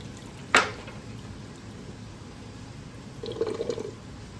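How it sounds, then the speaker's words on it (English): Water being drained from a freshwater fish tank, with a quiet ongoing liquid trickle and hiss, a sharp splash near the start, and a brief burst of gurgling later, close by and without speech. "this is taking water out"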